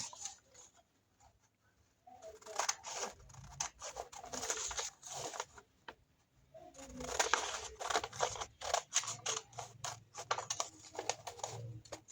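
Scissors cut out a paper sewing pattern for a shirt dress, giving bursts of crisp snipping and crunching paper strokes separated by short quiet pauses, close and faint, with no talking.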